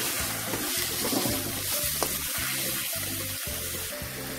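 Spiced mixture of turmeric, chili, coriander and cumin powders stirred in a pan for Bengali mutton jhol as water is added little by little, giving a steady close-up sizzle and wet scraping with rhythmic stirring strokes.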